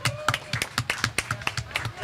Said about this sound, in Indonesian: Tepuk tangan buat Mas Putra